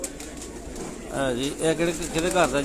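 Soft cooing of a Black Cobra pigeon, close by, with a few rising and falling coos under someone talking.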